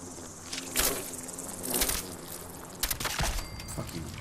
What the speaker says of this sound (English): It's bugs.